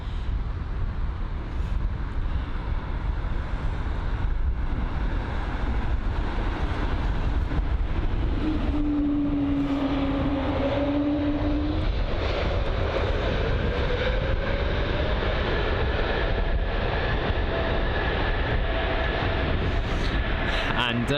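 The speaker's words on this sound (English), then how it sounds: "Looks to be a KLM. I think that's it's the E295 operating from Amsterdam to London Heathrow, of course." A KLM Embraer E195-E2 jet arriving at London Heathrow from Amsterdam gives a sustained, loud engine roar, with a brief high whine rising midway and a faint tonal sweep after, while a voice talks faintly beneath.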